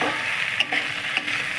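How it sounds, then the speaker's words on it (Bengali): Chopped tomato with turmeric and chili powder is stirred in a hot pan, with a continuous sizzle broken by a few scraping strokes of a spatula. "টমেটো কুচিটা দিয়ে দেবে, হলুদ গুঁড়ো, লঙ্কা গুঁড়ো দিয়ে একটু নাড়াচাড়া আরেকবার করে নেবে।"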